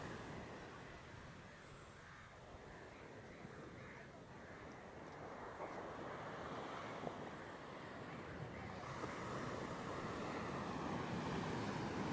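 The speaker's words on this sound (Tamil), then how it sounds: "எவ்வளோத்துக்கு முன்னுக்கு வந்துட்டு பாருங்க கடல்" Sea waves wash ashore on the coast at Maruthamunai near Kalmunai, a continuous broad roar of surf mixed with wind noise that swells slightly louder toward the end.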